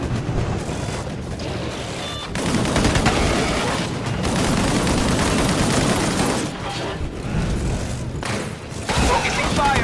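Heavy gunfire from the Disintegration video game rattles in dense, sustained bursts with booming impacts, broken by a few brief pauses, loud and close, while a voice speaks over the shooting.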